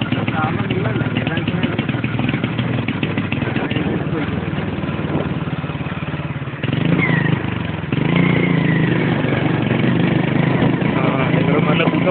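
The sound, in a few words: motorcycle engine running with a problem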